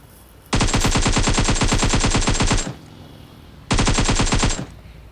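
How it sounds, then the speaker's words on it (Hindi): Automatic gunfire in a PUBG Mobile squad fight, heard as two long, loud bursts of rapid rhythmic shots, the first lasting about two seconds and the second following after a short gap. "मुझे आई सामने से गन फाइट की साउंड"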